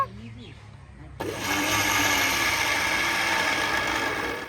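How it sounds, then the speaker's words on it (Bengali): After a brief quiet moment with a faint voice, a kitchen blender abruptly starts and runs steadily, a loud sustained motor whir as it blends a cocoa powder and water mixture. "দেখুন বন্ধুরা কত সুন্দরভাবে ব্লেন্ড হচ্ছে"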